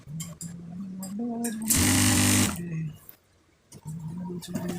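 A sewing machine stitches the side seam of a panjabi sleeve in one loud, rapid burst of about a second, close by, with someone talking before and after.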